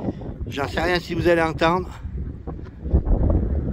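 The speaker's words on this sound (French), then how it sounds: "il y a beaucoup de vent" Strong outdoor wind buffets the microphone with a continuous low rumble, while someone speaks French over it for the first two seconds before the gusting noise continues alone.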